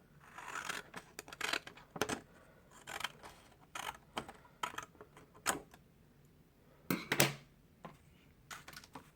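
Scissors snip through binder filler pages in a series of short, sharp cuts with brief pauses between them, close and fairly quiet, with no talking.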